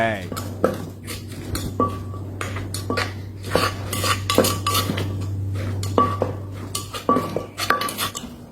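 Mama instant noodle som tam is pounded in a mortar, producing a rhythmic string of close, sharp knocks and clinks under a steady low hum, with someone talking in Thai throughout.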